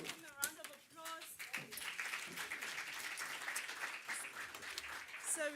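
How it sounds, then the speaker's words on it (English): An audience at a small and medium enterprise conference breaks into applause, the clapping building after a second and holding as a dense, steady patter while voices and talk carry over it. "Can we please give him a round of applause?"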